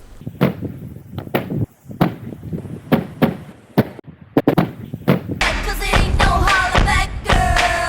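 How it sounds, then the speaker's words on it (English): Inline skates landing with heavy thuds, a run of sharp irregular impacts and knocks close by, then a louder stretch of rolling clatter and jumbled noise near the end. "just the thud when you land things"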